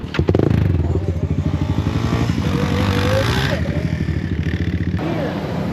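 Motorcycle on a backyard dirt track, a loud close engine pulsing rhythmically in second gear, with rattles and thumps, and voices mixed in partway through.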